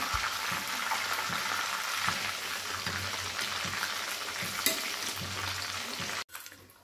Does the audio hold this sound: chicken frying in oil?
yes